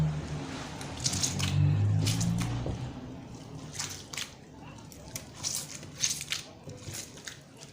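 Homemade slime being mixed by hand, a watery batch with cream added, gives close, wet squishing and sloshing squelches in irregular bursts, with a low muffled rumble early on.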